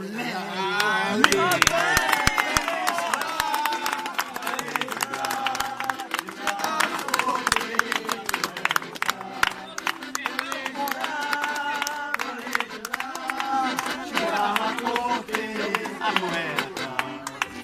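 A crowd claps in quick rhythm at an August outdoor festival in the piazza of Scaletta Superiore. The clapping runs alongside loud live music and singing the whole time.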